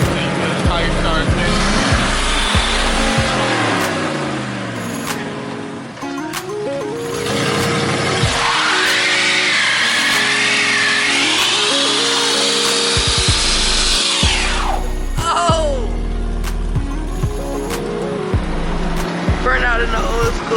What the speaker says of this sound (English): Burn out in the old school.